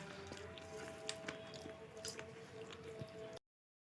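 A sago mixture with sugar and salt is kneaded by hand into a dough, giving soft, wet squishing and squelching at close range before stopping abruptly.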